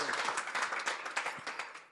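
An audience applauds at a talk event, with brief, faint, dense clapping lasting only a couple of seconds.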